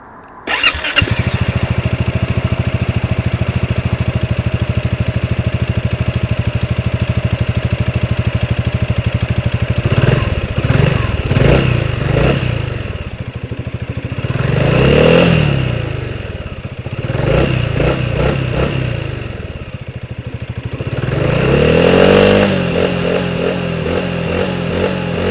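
A 2025 Honda Forza 350 scooter's engine runs steadily and close by, with several revs rising and falling over a continuous idle, and no voices.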